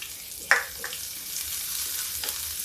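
Chopped onion sizzles in a hot pan as a utensil scrapes and stirs it, giving a steady hiss broken by a couple of sharp clinks, close by with no talking.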